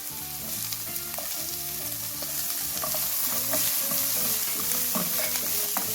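Garlic and ginger sauté in about a tablespoon of oil for a vegetable, egg and prawn curry: a steady close sizzle throughout, with repeated scraping stirs and clinks from the utensil against the pan. No talking.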